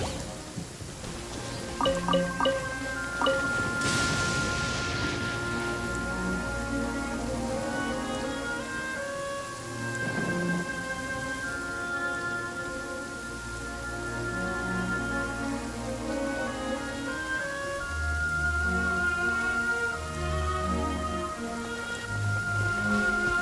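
Rain falls in a video game, a steady patter running throughout beneath a layered musical score, with no talking.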